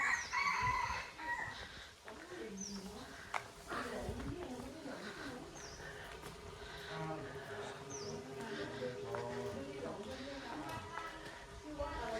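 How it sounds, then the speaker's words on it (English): Chickens cluck and a rooster crows in a busy farmyard at a remote Buddhist temple in Ban Mae Wong, Thailand, with bird calls and murmuring voices mixed throughout. "Lots of chickens."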